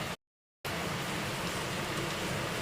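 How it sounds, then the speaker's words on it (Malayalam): Heavy rain falling outside, heard as a steady, dense hiss of downpour filling the background after a brief dropout, constant and fairly loud with no talk over it. "പുറത്ത് നല്ല മഴയാണ് ഭയങ്കര ഡിസ്റ്റർബൻസ് ഉണ്ട്"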